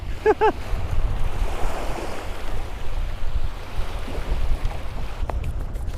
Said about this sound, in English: I thought the wind was supposed to calm down.